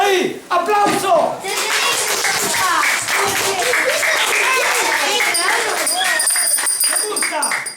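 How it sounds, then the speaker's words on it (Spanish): Children in a classroom clapping during a Santa Claus visit, loud and close, mixed with excited shouting and chatter throughout, with bright high-pitched voices and a few sharp claps standing out. "Ahí, aplauso."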